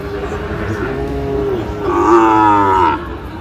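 An eight-month-old Sahiwal bull at a Natore cattle market lets out one long, loud, wavering moo that rises in strength midway, close up over a low background hum.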